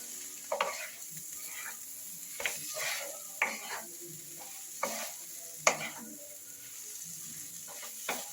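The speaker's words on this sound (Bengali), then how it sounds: "2-4 মিনিট এটা কড়াইতে নেড়ে নিচ্ছি।" A spoon stirs a thick chickpea dal mixture in a wok in a series of separate scraping strokes over a soft sizzle.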